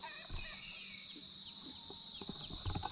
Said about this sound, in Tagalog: Ngayon yata yung kalabaw ni Kabise.